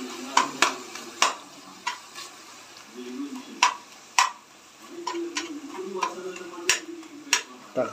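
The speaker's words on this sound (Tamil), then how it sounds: "தக்காளியும் வதங்கிச்சு." Tomatoes sauté in a pan for fish biryani, a soft sizzle beneath repeated sharp ladle scrapes and taps against the metal at an irregular pace, close and fairly loud.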